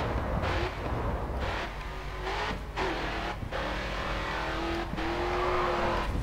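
A race car in the Grid 2 racing game accelerates hard. The engine drones loud and continuous, with rising pitch sweeps as it revs through gears and brief dips between shifts.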